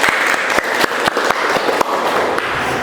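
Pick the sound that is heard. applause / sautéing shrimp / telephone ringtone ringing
applause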